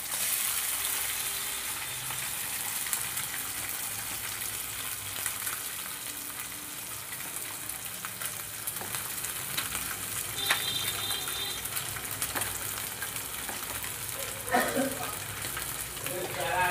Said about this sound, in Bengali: মাছগুলোকে আমি ভালো করে ভেজে নেব।